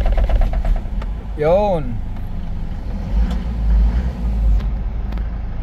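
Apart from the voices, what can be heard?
Isuzu Travis 4JA1 diesel engine hard starting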